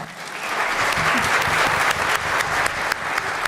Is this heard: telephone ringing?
no